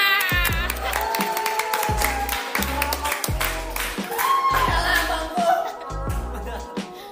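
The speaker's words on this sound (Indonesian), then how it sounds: "Kasih tepuk tangan." Studio audience clapping and cheering on an Indonesian talk show, loud and sustained over a thumping, repetitive music beat.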